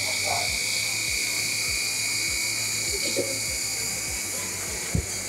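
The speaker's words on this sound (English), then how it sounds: "It's an under the bumper intake." An under-the-bumper intake roller on an FRC competition robot whirs steadily with a high electric motor whine and a rhythmic low pulsing, close by, with a faint tap near the end.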